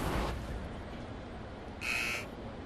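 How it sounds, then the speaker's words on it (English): A buzzer sounds once at a Mets at Marlins Major League Baseball game, a short bright tone of about half a second rising briefly above the steady murmur of the ballpark crowd. "There's the buzzer."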